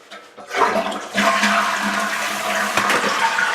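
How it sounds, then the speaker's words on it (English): A household toilet flushes close by, a rush of water starting after a short quiet moment and swirling steadily for a few seconds, with the tank water supply shut off. "when I flush the toilet,"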